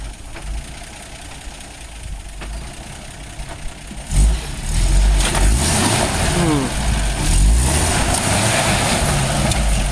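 A Toyota FJ40 off-roading over rocks backs up and bounces, its engine idling and knocking, then revving louder with clunks and scrapes from about midway, while people talk nearby.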